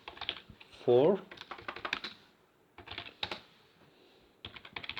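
HTML code is typed on a computer keyboard in quick, irregular bursts of light clicking, close and clear, with a short pause midway and a brief spoken word over the keys.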